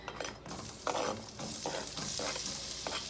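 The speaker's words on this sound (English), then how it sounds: "Now, we're just going to throw these onions in." Onions tossed into a half stick of melted butter in a pot on a warm burner, for broccoli cheese soup, crackle and sizzle steadily up close, with a few louder stirring bursts through the frying.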